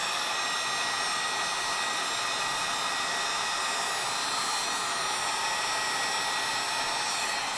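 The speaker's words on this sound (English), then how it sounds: "And let me get the heat gun plugged in." Heat gun blowing hot air to shrink tubing over a wire for a 12 volt relay setup, a loud, even whooshing whine held constant from start to finish, close by.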